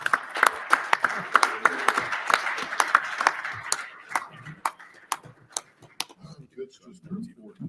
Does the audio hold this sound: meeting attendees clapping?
yes